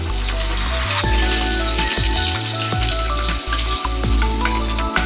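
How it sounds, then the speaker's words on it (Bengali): Chopped ginger, garlic and green chillies fry in hot oil for paneer Manchurian, a loud crackling sizzle with sharp popping spatters and a few low knocks from the pan. "এরপর ভালোভাবে একটু ভেজে নিতে হবে।"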